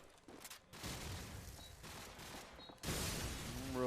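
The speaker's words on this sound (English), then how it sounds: "Revolt's being tagged up by that grenade, that car explosion." Grenade and car explosion in the Call of Duty 4 video game during a competitive playoff match: a dense, roaring burst of blasts and gunfire, with a fresh loud surge near the end.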